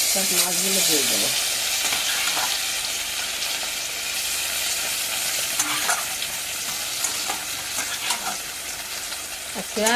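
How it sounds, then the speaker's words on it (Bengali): Fish rubbed with salt and turmeric fries in hot oil in a kadai, giving a steady close sizzle with occasional sharper spits and crackles, running continuously for the whole stretch without talk. "দিয়ে মাছগুলো দিয়ে দেবো"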